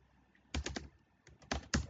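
Quick bursts of keystrokes as an ADB command is typed on a computer keyboard, close and crisp clicks clustered in two short runs with a brief pause between.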